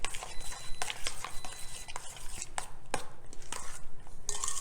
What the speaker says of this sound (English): we've combined all the ingredients here, and we're just gonna give it a good stir